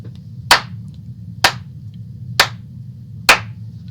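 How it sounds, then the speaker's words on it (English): Four lone, deliberate hand claps land at an even, unhurried pace, each crisp and close, over a low steady hum with nothing else between them. "Slow clap for you geniuses."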